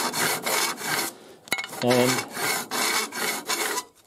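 Rhythmic rasping scrapes of sandpaper on an aluminium plate clamped to a metal square, repeated strokes back and forth close by, with a brief sharp click midway.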